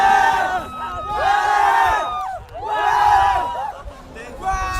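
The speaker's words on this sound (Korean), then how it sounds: "응원석에서 커다란 함성이 터져나옵니다." A big cheer and shouting erupt from the spectators' stands at a high school sports event celebrating a boys' and girls' double victory, the loud crowd roar rising and falling in two strong surges.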